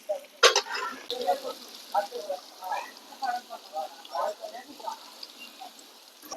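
Pieces of elephant yam sizzle and fry in a pan while being stirred, with steady crackling and intermittent scraping strokes close by throughout.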